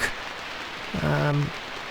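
Steady rain hisses throughout in the 1994 DOS game Dreamweb, with a brief voice-like tone breaking through in the middle.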